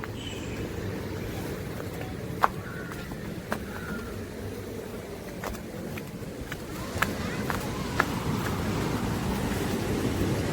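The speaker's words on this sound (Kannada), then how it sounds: "ಏನು ಸೌಂಡ್, ಅಲೆಗಳ ಸೌಂಡ್," Ocean waves rolling onto Cola beach, a steady broad wash of surf with wind, continuous throughout, with a few faint sharp clicks on top.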